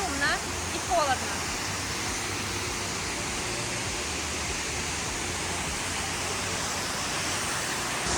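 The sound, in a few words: roaring Chegem waterfalls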